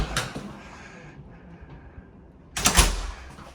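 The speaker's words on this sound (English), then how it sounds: "The doors, you can push them open, they stay open until you want to close them." Hotel room doors at the Grand Hyatt Manila pushed open, giving a soft thud and rustle at the start, then a louder, fuller clatter and swing near the end, heard up close with no one speaking.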